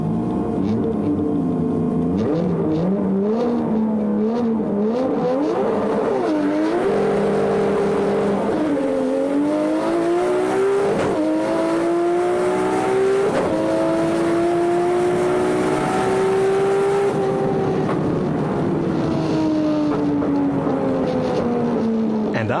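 A 4-wheel-drive drag car loud and close through its burnout and launch, the engine revving hard, then climbing steadily in pitch as it accelerates away, continuous roar for over twenty seconds.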